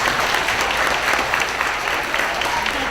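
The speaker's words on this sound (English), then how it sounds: "So can we give them a round of applause?" An audience of students and staff at a school assembly applauds, a steady, dense wash of clapping that holds evenly throughout, moderately loud and without breaks.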